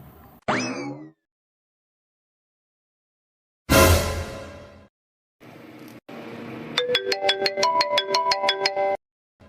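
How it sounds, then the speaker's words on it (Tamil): A mobile phone ringtone sounds in a domestic setting, a bright repeating electronic melody of rapid tonal beeps running steadily for a few seconds, preceded by short bursts of other sounds. "அட, போன் அடிக்குது."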